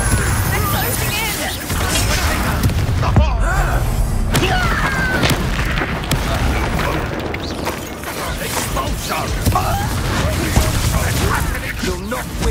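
Confringo spell blasts in Hogwarts Legacy burst with loud booming impacts and crashes over a constant clatter of combat, while voices shout throughout.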